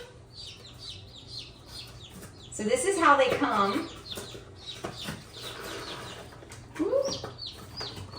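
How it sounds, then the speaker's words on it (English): Newly delivered chickens clucking and chirping at close range, in short bursts that rise and fall, while people talk over them. "The chickens are here."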